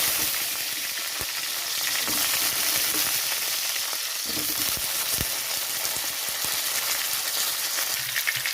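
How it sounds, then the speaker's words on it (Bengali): Potatoes fry in hot oil in a pan with a loud, continuous hiss and crackle, broken by occasional sharp pops and ticks from the pan. "আলুটা ভাজার জন্য দিয়ে দিচ্ছি।"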